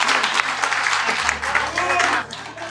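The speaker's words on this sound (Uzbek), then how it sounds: "bitta olqishlab qo'yaylik ustozlarni" Applause from a gathered group in Samarkand at a team-building event honouring teachers, a short dense burst of clapping with voices mixed in.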